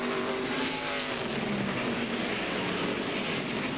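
A NASCAR Winston Cup stock car, the UPS 88, rolls down pit road at Lowe's Motor Speedway under the pit speed limit, its engine a steady, dense mechanical roar that holds constant without a break, with no voices over it.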